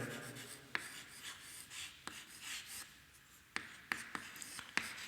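A pen or marker writing out a math equation on a board, heard as intermittent scratchy strokes with sharp taps at the start of each stroke, close and fairly quiet with no talk.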